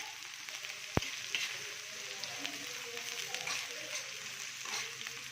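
Onion fries in a pan until reddish, giving a steady close sizzle broken by a sharp click near the start and light stirring scrapes, while a voice talks quietly over it.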